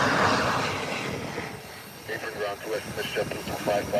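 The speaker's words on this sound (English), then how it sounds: "This is the Embraer 135." An Embraer 135 regional jet at an international airport, a broad roaring engine rush that fades slightly and then swells again, with a voice talking over it.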